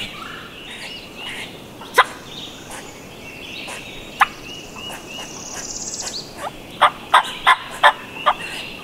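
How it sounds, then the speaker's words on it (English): A wild turkey gobbler on public land in Alabama gobbles repeatedly at middle distance, with sharp clucks and calls scattered between, over a steady bed of insect and bird chatter. "making the gobbler behind us start gobbling a whole lot more"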